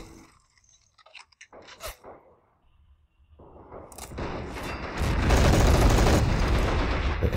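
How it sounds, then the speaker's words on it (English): Machine gun fire in Men of War: Assault Squad 2 starts with sparse scattered clicks and pops, then swells into a loud, sustained rattle of fire that fills the last few seconds. "The MG fire away."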